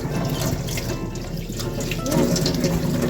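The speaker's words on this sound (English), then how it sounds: "Wash out and make sure all these sand and things come off" Water runs steadily from a kitchen tap as sand is washed off food being prepared for grilled lamb kebabs, a close, continuous splashing stream into a sink with no talk over it.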